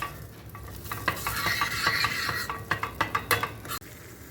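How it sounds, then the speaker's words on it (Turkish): Tomato paste and spices fry in melted fat in a pan, a steady close sizzle with repeated scraping stir strokes of a utensil against the pan. "Baharatlarımızı ilave ediyoruz ve bir süre salçamızı kavuruyoruz."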